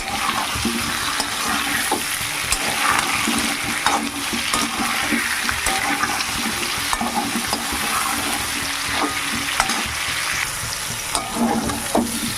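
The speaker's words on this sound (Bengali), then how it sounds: "আলু পটলগুলো ভাজাও হয়ে যাবে" Potatoes and pointed gourd, salted, frying in a pan: a loud, dense, continuous sizzle with constant stirring and scraping close up, no voices.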